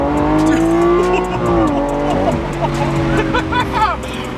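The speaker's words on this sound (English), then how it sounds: "driving an Aventador right now." A Lamborghini Aventador engine roars and climbs in pitch as the car accelerates, heard from inside the cabin with excited voices talking loudly over the engine throughout.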